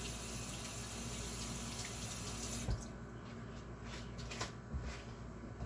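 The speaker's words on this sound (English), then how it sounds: "you have one side to wash your hands and one side to keep food without getting contaminated" Tap water runs steadily into a double kitchen sink during handwashing, a constant close hiss that drops in level about halfway through, with a few soft knocks near the end.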